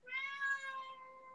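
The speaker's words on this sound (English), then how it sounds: "You got your cat meows." A single drawn-out cat meow, clear and fairly close, rising then slowly fading over about a second in an otherwise quiet room.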